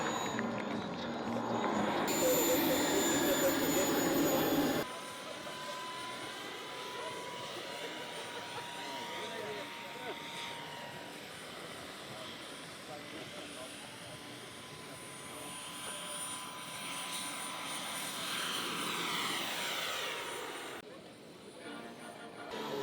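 A radio-controlled model jet at a jet-power flying event whines and roars steadily at a distance, fairly faint, with crowd murmur and voices underneath.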